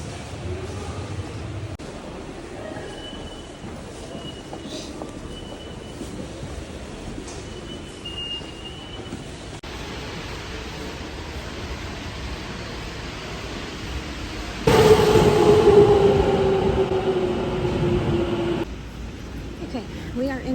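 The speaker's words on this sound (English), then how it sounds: "We're taking the subway this time." A Tokyo subway train rumbles steadily in a broad hiss, swelling louder with a rising metallic whine partway through, then easing back.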